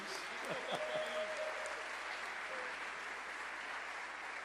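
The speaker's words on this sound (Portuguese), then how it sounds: "Dá um aplauso para Jesus." Steady applause from an audience at a theology workshop, a continuous wash of clapping held at an even level throughout, with a brief voice near the start.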